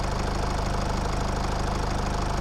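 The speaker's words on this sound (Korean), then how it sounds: "엔진 소리 한번 들어보세요" A used diesel car with 197,000 km, cold-started and idling: a steady, even low engine rumble with a fine rapid rhythmic clatter, close and continuous, no voices.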